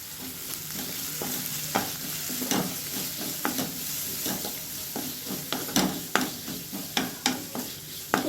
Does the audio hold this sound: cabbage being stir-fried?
yes